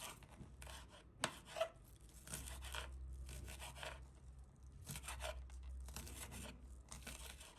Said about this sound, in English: So I'm just cutting up my scallion.